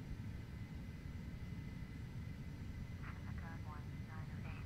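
A light aircraft engine drones steadily at 80% throttle during a climb, a dense continuous rumble heard from inside the cabin, with a brief faint tonal chirp partway through.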